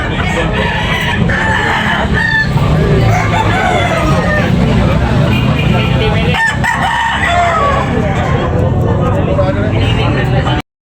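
Roosters crow and hens cluck at a chicken market in Tabunok, Talisay, Cebu, busy and noisy, with people talking loudly and traffic rumbling throughout.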